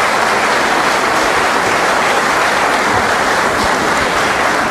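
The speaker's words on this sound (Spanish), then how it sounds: "Yo creo que está bueno brindarles un aplauso muy, pero muy grande" Loud, continuous clapping from a gathering at a retirees' association, applauding a group of pilgrims, a thick unbroken roar of hands with no talk over it.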